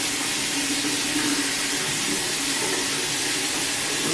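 Tap water runs steadily into a bathroom sink, a constant close hiss and splash that holds evenly without a break.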